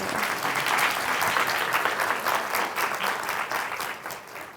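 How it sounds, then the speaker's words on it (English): Sustained audience applause fills a hall at the Women Techmakers Belfast 2024 summit, a dense steady roar of many hands that stays loud before easing off slightly near the end. "Everybody, big round of applause."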